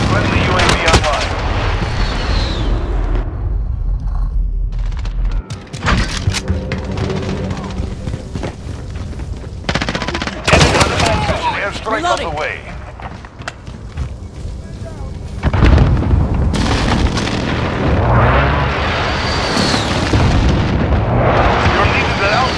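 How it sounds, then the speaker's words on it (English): Precision airstrike explosions land in a Modern Warfare Domination match on Xbox One, with repeated heavy booms and rumbling blasts mixed with gunfire over about twenty seconds, loud and close, with game voice callouts in between. "Friendly precision airstrike on the way"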